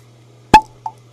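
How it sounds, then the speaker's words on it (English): A cork pops from a bottle of Rossville Union straight rye whiskey: one sharp, loud, hollow pop up close, followed a moment later by a softer second plop, over a faint background hum. "that was just explosive in terms of the cork pop"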